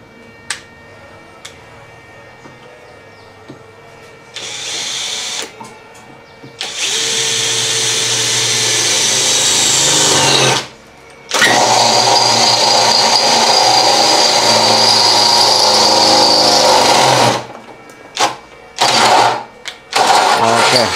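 A Dongcheng DCJZ2040i13 electric drill runs at speed 2: a few brief bursts, then a long, loud, steady whir, a momentary stop and another sustained run, ending in short choppy spurts.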